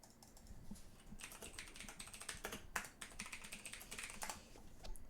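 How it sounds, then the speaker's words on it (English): Steady clicking keystrokes on a computer keyboard, a fast irregular run of close, crisp taps that continues without pause, with no voices. "Alvine is currently typing."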